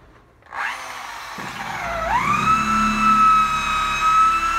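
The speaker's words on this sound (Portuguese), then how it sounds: "Essa furadeira dá um problema." Power drill used while hanging a door and fitting cabinet doors, whining up to a high, steady motor pitch that holds loud and alone after a brief rising start.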